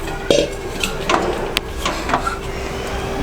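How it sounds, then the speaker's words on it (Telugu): Chopped cabbage goes into a pressure cooker in a home kitchen, a few light clattering and rustling knocks against metal, soft and close, with no voices. "ఫస్ట్ క్యాబేజీ కుక్కర్లో వేసుకుని"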